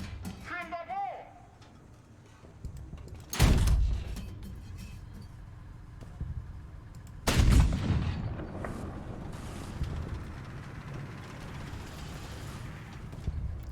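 Gunfire in the War Thunder combat game, two heavy booming shots several seconds apart with rumbling aftermath, mixed with background battle noise and people talking.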